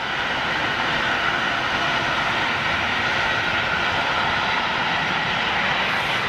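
Jet aircraft engines at an airport, with an Ilyushin IL-76 and a Ryanair Boeing 737 nearby, give a steady, broad roar with a whining hiss that holds constant throughout, moderately loud and without speech.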